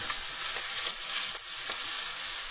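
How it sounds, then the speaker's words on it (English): Garlic fries in a pan, pushed into its own small corner among spaghetti-and-meatballs cooking, giving a steady, close, dense sizzle with faint crackles throughout and no voices. "make a little room for the garlic to kind of cook by itself in a little corner there"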